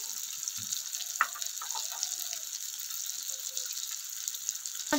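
Ground cumin and coriander powder frying with melted tomato in a pan for a moong dal and papaya ghonto, a faint, soft sizzle with a few light clinks and bubbling pops.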